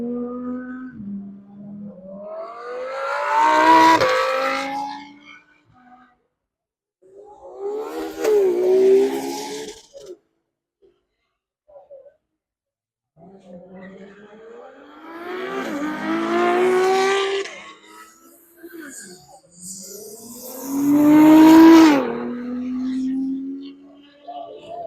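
A car making over 1,000 brake horsepower, a JM import at the Super fest car show, revs loudly and up close in four separate bursts, its engine pitch sweeping up and down between short pauses.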